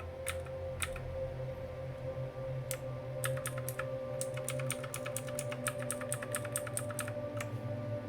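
Rapid bursts of key clicks from a Redragon VARA K551 RGB mechanical keyboard, typed steadily and fairly close over a constant low electrical hum, with no voices.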